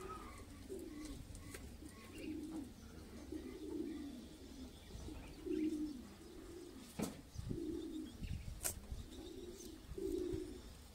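A hoopoe repeatedly calls in soft, low cooing notes, a steady rhythmic series over faint background noise, with a few sharp clicks.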